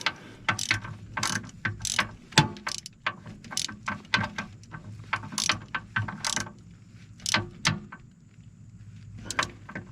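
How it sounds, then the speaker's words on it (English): A hand ratchet cranks down an oil filter during an oil change on an Axis 500/700. Rapid clicking pawl strokes come in uneven bursts with short pauses, close and fairly quiet. "Grab your ratchet and then crank it down."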